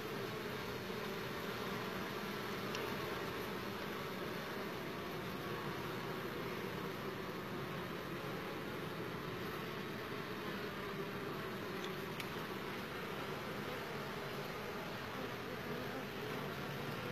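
Honeybees buzz around their hive in a dense, steady, continuous hum heard close up, unbroken for the whole stretch and with no voices.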